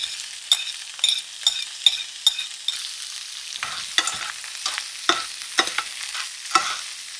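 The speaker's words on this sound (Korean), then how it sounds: "골고루 기름이 들어가고 볶아줍니다." Bamboo shoots are stir-fried in sesame oil in a pot: a soft steady sizzle runs under repeated clacking and scraping strokes as the shoots are tossed to coat them in oil, with no voices.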